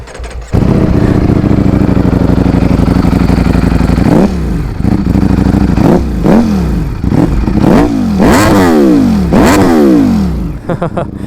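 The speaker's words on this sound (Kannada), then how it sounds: "ಡುಕಾಟಿ ಎಕ್ಸಾಸ್ಟ್ ನೋಟ್ ಹೇಗಿದೆ ಅಂತ ನಿಮ್ಗೆ ಕೇಳಿಸ್ಬಿಡ್ತೀನಿ" A Ducati Streetfighter V4S motorcycle starts and then revs its exhaust loudly up close, with a steady idle followed by a series of sharp, rising and falling throttle blips.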